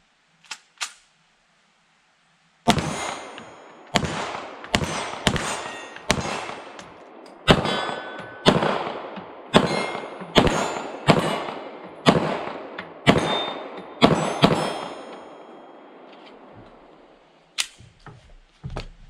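Rapid 9mm shots from a steel-frame Canik Rival-S pistol ring off steel targets at about 15 yards: two quick shots, a pause, then a steady string of roughly a dozen sharp cracks with metallic clangs, and a final isolated shot.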